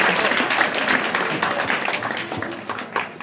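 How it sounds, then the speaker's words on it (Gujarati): An audience applauding at a school prize-giving during a primary school cultural programme, dense continuous clapping from a crowd, close and fairly loud for the whole stretch. "ઇનામ આપી આપણે એમને વધાવશું તાળીઓ પાડીએ અને વધાવીએ"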